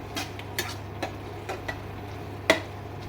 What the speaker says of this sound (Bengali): এইভাবে কষাতে হবে, কষে তারপরে জল দিতে হবে।